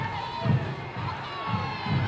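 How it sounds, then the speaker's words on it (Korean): A crowd of villagers raises manse cheers at the start of the independence movement, a loud sustained roar of many voices with repeated swells, heard close and unbroken. "북소리와 함께 터져나오는 만세 함성"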